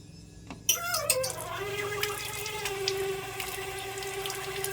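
A liquid plant-feeding mixture is poured into a container for watering garden plants. The pour begins with a splash and settles into a steady, close gurgle whose pitch shifts as the level rises. No one talks.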